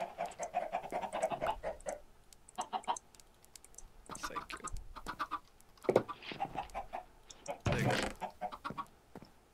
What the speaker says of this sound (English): What are you doing killing all the chickens for?